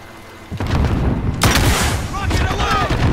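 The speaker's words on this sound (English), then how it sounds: "Throwing grenade!" A thrown grenade goes off in Call of Duty Modern Warfare during a Hardcore Domination match, with a sudden loud blast and rumbling aftermath over ongoing battlefield noise and gunfire.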